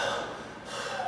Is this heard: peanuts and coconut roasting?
no